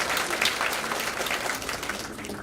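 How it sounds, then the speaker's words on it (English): An audience at an awards breakfast claps in a sustained, dense round of applause that stays fairly loud and even throughout. "let's give him another round of applause"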